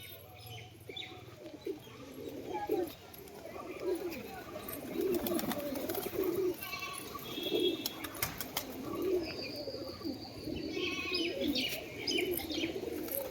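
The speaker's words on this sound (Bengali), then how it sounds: "এত সুন্দর সুন্দর পায়রা দেখলে মানে মন খুশি হয়ে যাবে" Several pigeons, including homing and tumbler types brought from Kolkata, coo in repeated low pulses, with scattered chirps and faint voices in a busy background.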